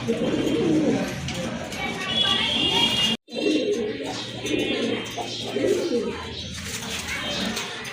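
Pigeons, a mixed-size pair among birds for sale including Giribaz and racers, coo in low rolling calls throughout, close by, under steady talking from a man nearby, with a brief drop to silence midway.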